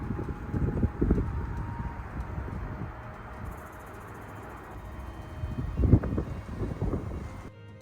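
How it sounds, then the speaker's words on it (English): Strong wind on the Scottish coast buffets the microphone in uneven rumbling gusts, swelling loudest near the start and again near the end. "I forgot just how windy it really is back home."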